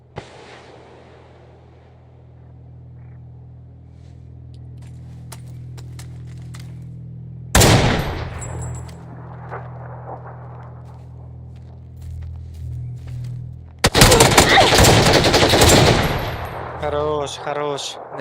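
Gunfire in the video game PUBG comes in sharp, loud bursts: a single crack early on, a heavier volley near the middle, then a dense rapid string of shots toward the end, with quiet stretches between.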